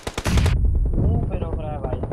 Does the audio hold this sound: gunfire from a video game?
yes